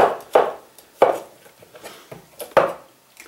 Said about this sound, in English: Slice them up nicely.